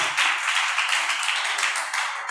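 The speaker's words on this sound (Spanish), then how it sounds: "Dele ese aplauso al Señor." Congregation applause during an IPUC church service in Tunja: a steady, bright wash of many hands clapping, continuous and fairly loud with no talk over it.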